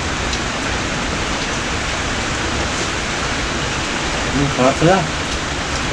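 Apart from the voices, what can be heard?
rain falling outdoors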